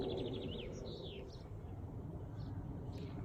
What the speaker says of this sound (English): I can only hear birds.